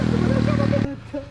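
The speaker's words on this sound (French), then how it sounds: "la 190 mon gars Mathieu, c'est vraiment une bonne petite moto" A YCF 190 pit bike engine idles with a steady buzzing drone, then cuts off abruptly, leaving a short quiet stretch with faint mechanical noise.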